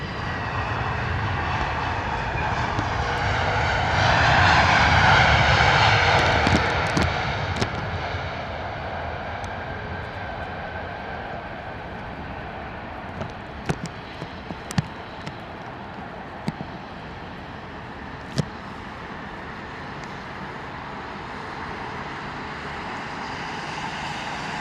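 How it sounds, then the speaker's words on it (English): An Aer Lingus A321neo airliner lands at London Heathrow in wet, windy weather, its engine roar swelling loud and broad, then easing into a steady rumble with a few sharp knocks in the background. "Beautiful arrival there from the Aer Lingus A321neo"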